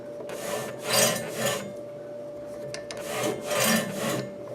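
Radial arm router in need of oil, giving a few dry, rasping squeaks and rubbing scrapes in slow, uneven strokes, close and moderately quiet, with no talk.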